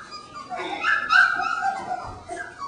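Three-week-old puppies whimper and yip close by, a cluster of high, wavering whines and short squeaky yelps rising to a peak then trailing off, fairly loud.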